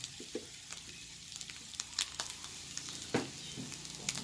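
A splash of water goes into instant noodles frying in a pan, bringing a soft, quiet sizzle with occasional scrapes and clicks of stirring; no voices.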